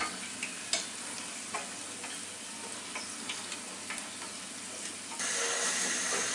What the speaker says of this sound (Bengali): উল্টায় পাল্টায় দিতে হবে, সব দিকগুলো যাতে সমানভাবে ভাজা হয়।